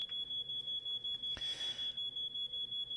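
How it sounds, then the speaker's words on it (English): A digital alarm clock rings in a visual novel game, giving a steady, high-pitched electronic beeping in quick, even pulses that runs the whole time, close and loud, with a brief noisy burst midway. "I'm awoken by the sound of my digital alarm clock, trying to tell me it's time to get up."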